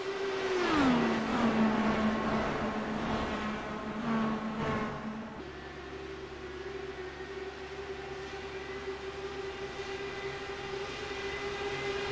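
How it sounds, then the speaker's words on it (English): A race car pulls back out onto the racing surface, its engine note sliding down from a higher whine into a steady low drone that keeps running, heard from a distance. "Like Mike Keeler now going to come back out onto the racing surface."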